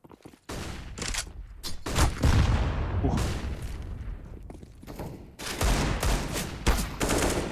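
Rapid Desert Eagle shots crack out in a competitive CS:GO match on Dust2, several loud bursts of pistol fire overlapping with other gunfire and booms, dense and close throughout.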